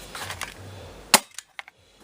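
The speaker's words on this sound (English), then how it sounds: "that dart was shot" An Umarex Rekt OpSix CO2-powered Nerf pistol fires a dart with one sharp, close pop, followed by a few faint clicks in a quiet room.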